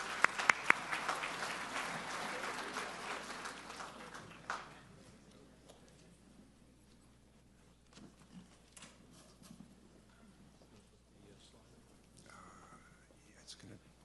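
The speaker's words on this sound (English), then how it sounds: "give another round of applause to our panel" An audience at a homeland security forum applauds a panel with loud, dense clapping that fades after about four seconds into quiet room murmur and scattered noises.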